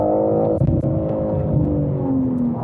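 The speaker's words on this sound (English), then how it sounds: "let's change down a couple of gears" BMW M340i four-wheel-drive saloon dropping a couple of gears and pulling hard, a loud, close engine note with a brief blip at the shifts, then rising steadily under acceleration.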